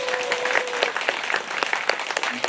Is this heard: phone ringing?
no